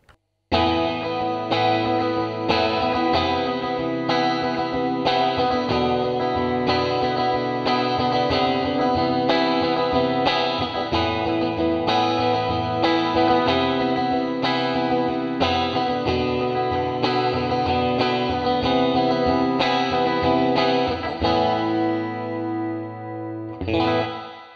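TC Electronic Hall of Fame reverb pedal on its lo-fi delay setting, imitating early digital reverbs, colouring a continuous loud guitar passage with chorus-like wobble and grit. Chords and notes ring steadily throughout, then a final chord decays away alone.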